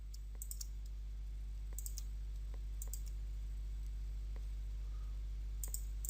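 Sharp, isolated computer mouse clicks sound in ones and pairs over a steady low hum in a quiet room, with no talking.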